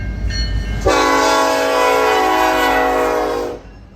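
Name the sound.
freight train led by two EMD SD70M-2 locomotives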